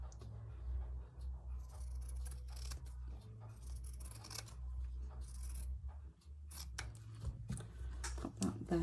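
Scissors cutting cotton quilt fabric scraps for a hand-stitched kawandi-style quilt: quiet, close snips and scrapes scattered irregularly over a low background hum.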